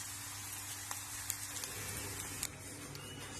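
Endives cook gently in a pan with a soft, steady sizzle and a few faint crackling pops over a low hum, heard close and quiet with no talking.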